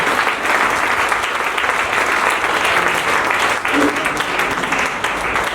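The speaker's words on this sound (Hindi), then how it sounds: "तो एक बार जोरदार वाली तालियां अजिंदर कौर जी के लिए होगी।" Loud, continuous applause from an audience at an RCM success celebration event in Kaithal, steady clapping filling the whole stretch with no break.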